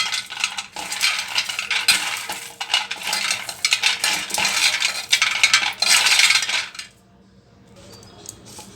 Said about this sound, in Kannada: ಅದಕ್ಕೆ ಈ ಕಡಲೆಕಾಯಿ ಬೀಜನ ಚಿಕ್ಕ ತೆಗಿಬೇಕು.